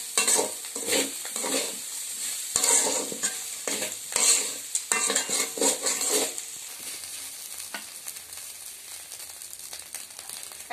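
Rice frying and being stirred in a pan with salt, a steady hiss of sizzling broken by scraping spatula strokes, loud and busy for the first six seconds, then a quieter, even sizzle with no talking.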